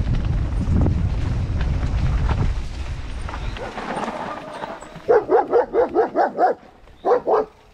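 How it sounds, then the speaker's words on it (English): An angry dog barks on a mountain bike trail around Nice, France. Gusty wind noise comes first, then roughly eight loud, sharp barks follow in quick succession, close to the microphone. "Angry doggy."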